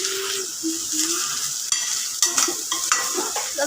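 Food seasoned with rock salt sizzles in a pan as a spoon stirs and scrapes it, mixing back and forth, with a few sharp knocks against the pan near the end and no talking.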